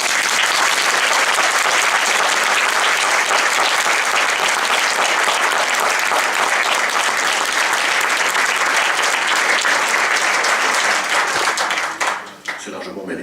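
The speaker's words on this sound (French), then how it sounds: "Applaudissements pour les musiciens de la ville de Vittel." A concert audience applauds the town's harmony orchestra musicians at a Saint Cecilia concert in Vittel, a loud, dense, continuous ovation that tapers off abruptly near the end.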